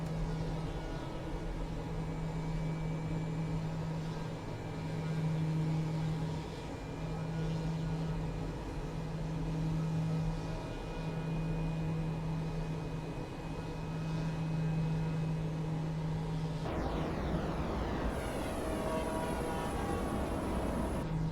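De Havilland DHC-6 Twin Otter turboprop engines in Flight Simulator, a steady loud droning hum with a sustained tonal whine, running alone without talk before the pitch shifts near the end.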